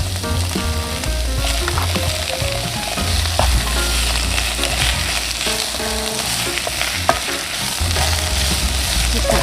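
Mushrooms frying in a hot pan, a loud continuous sizzle with steady scraping and stirring close by throughout, with no talking.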